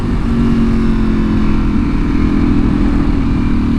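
A Ducati V4R motorcycle engine on a ride roars loud and steady with a dense, low rumble throughout and no voices.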